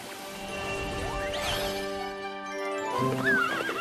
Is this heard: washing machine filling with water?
no